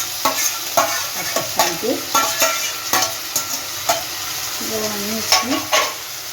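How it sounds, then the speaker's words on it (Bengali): Ginger, cumin and chili paste with tomato puree sautéing in a pan for a pointed gourd curry, with repeated sharp spatula scrapes and stirs over a low sizzle while someone speaks. "আমি আদা জিরে লঙ্কা বাটাটা দিয়ে দিলাম, এবার কষে নেব"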